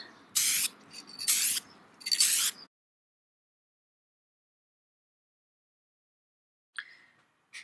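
Three quick, loud hissing bursts from a spray can come in succession, then silence, then a short faint hiss near the end.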